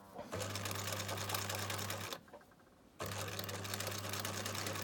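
Sewing machine stitching along the edge of a fabric pencil pouch, running steadily at close range with a hum and rapid needle clatter, then stopping for about a second before starting again.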